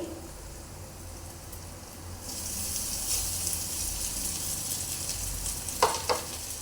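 Egg fried rice is stirred and mixed in a hot pan, with a steady hiss of sizzling that grows louder partway through and a couple of sharp scraping knocks near the end.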